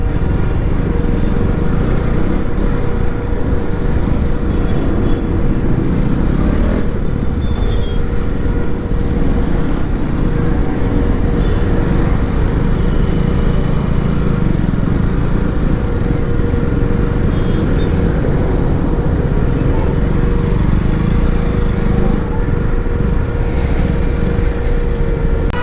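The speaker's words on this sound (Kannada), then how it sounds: "ನೋಡಿ ಗೈಸ್ ಟ್ರಾಫಿಕ್ಕು" Heavy Bangalore road traffic of cars and motorbikes, a steady dense roar of engines and tyre noise with a constant low hum running unbroken throughout, loud and close with no voices.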